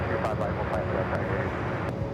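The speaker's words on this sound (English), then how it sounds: "That is British Airways 282 taking off to London Heathrow on the" A British Airways Boeing 777-300ER takes off at Los Angeles airport, a broad steady jet roar held at constant loudness through the short stretch, with a voice talking over it.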